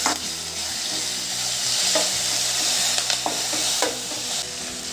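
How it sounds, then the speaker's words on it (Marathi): Ginger garlic paste sautéing in hot oil for moth bean usal, a continuous close sizzle with occasional spatula scrapes and taps against the pan, no talking. "आले लसूण पेस्ट टाकते। यामुळे उसळ खूप छान लागते चवीला। आपण छान परतून घेऊ तेलात।"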